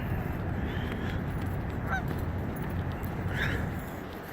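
Geese honk a few times in the middle distance over the steady rush of floodwater around an old willow tree in Charleston, with no talking.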